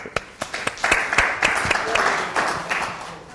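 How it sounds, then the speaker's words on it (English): Audience applause for a woman invited up at a travel insurance group meeting, with sharp individual claps breaking through a steady patter that swells and then thins out over a few seconds. "Let's give her an applause."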